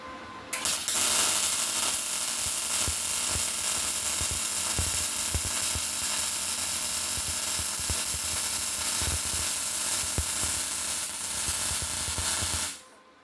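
A MIG welder lays a bead on thick 1/8 inch steel with a circular motion, giving a loud, steady crackling hiss for about twelve seconds that cuts off abruptly at the end.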